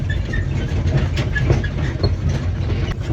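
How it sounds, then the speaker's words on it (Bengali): Steady rumble of a small amusement park train ride at Modern Park & Resort in Nimtoli near Dhaka, with faint clickety-clack and a low engine drone running continuously and fairly loud throughout. "ঝুকুর ঝুকুর ঝুকুর ঝুকুর করে আমরা এখন ট্রেনে চেপে ঘুরে বেড়াচ্ছি"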